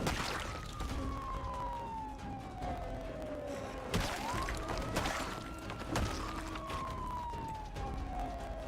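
A wailing alarm siren in the game Factorio, modded with Space Exploration and Krastorio 2, sweeps down and up in pitch over and over, loud and steady, with occasional sharp thuds and crashes cutting through.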